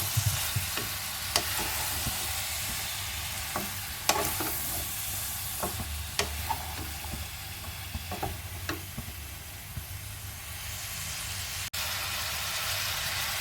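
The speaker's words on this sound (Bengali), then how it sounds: "এইবার এই পেঁয়াজ রসুনের সাথে সবজিগুলোকে খুব ভালোভাবে মিশিয়ে নেব।" Mixed vegetables with onion and whole garlic cloves, cooked alongside dried loitta fish, sizzle steadily while a utensil stirs them, sending out sharp scrapes and taps every second or two against the constant frying hiss.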